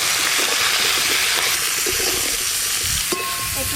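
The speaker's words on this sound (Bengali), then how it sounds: "এবার আলু আর পেঁপেও হালকা করে ভেজে নেব।" Potato and papaya pieces frying in oil in a pan with turmeric, a steady loud sizzle with some stirring scrapes throughout, no talking.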